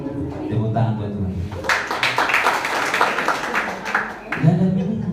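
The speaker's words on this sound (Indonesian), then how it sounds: "Tepuk tangan buat Tuhan" A congregation at a Christian church service bursts into clapping, a loud burst of applause that swells for a few seconds and then fades, with a preacher's voice speaking before and after it.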